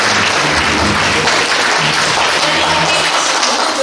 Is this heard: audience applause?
yes